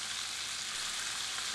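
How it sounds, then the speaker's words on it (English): Steady, bright sizzling of chicken livers frying in a hot pan, close and continuous with no voices. "Here I am frying up the second batch."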